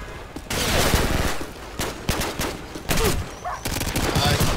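Rapid bursts of automatic gunfire in Call of Duty on a Rio hillside favela map, loud and close, with dense overlapping volleys separated by brief gaps.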